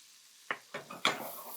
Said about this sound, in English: So let's add our red peppers in here.